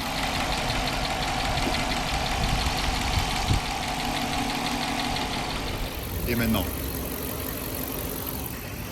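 A warm 5.7-litre V8 HEMI engine with a ticking fault rumbles steadily at idle, close and continuous, with a brief spoken phrase partway through.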